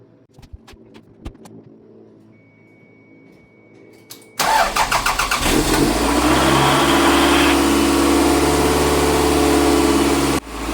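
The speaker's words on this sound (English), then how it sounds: "next thing to do is run the engine for 3 minutes until it's warm" A car engine starts after a few quiet clicks and a short pause, cranking briefly and then catching into a loud, steady idle that runs on, close by; it is run to warm up during a coolant flush and bleed.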